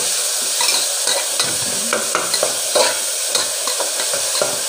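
Onions and tomatoes sauté with salt for sambar in a pan, giving a soft sizzle broken by repeated stirring scrapes and clinks from a spoon, close and without talk.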